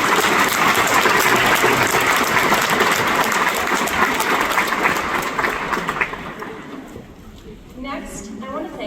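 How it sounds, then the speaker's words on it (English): Audience applause fills a high school graduation ceremony, a dense wash of many hands clapping with cheering voices mixed in, loud and sustained before thinning out toward the end. "Let's give them a round of applause."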